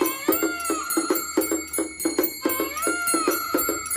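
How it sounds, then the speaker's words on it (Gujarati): A mini jhalar machine, an electric temple bell ringer, clangs in a steady fast rhythm of about two strikes per second, with bright ringing tones sustained between hits, close and fairly loud. "ઓલું મિની ઝાલર મશીન લેતા આવો"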